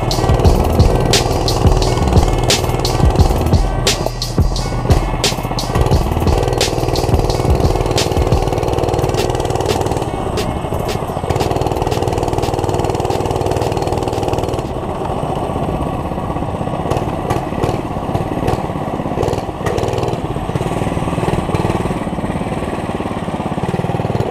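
A small 100cc four-stroke mini motorcycle engine running close by, a loud, buzzy, steady putter that holds on for over twenty seconds with small rises and dips in revs and no speech over it.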